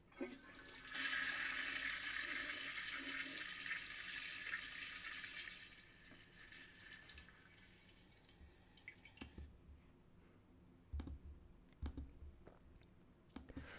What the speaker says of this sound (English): this original sound from this particular sound file called toilet flush.wav